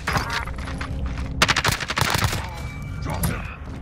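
Gunfire in a video game firefight with a sniper, a dense cluster of sharp shots mid-clip amid ongoing battle noise, with a voice talking over it.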